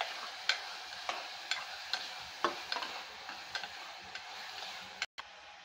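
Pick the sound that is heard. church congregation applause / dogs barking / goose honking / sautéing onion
sautéing onion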